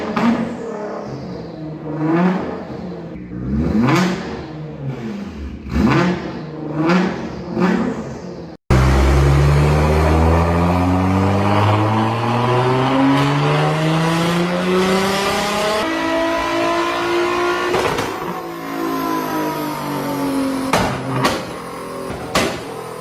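A 2025 Porsche 911 Turbo S engine revs hard and accelerates, pitch sweeping upward through gears in a loud, close, continuous roar, with brief tire noise and no talking.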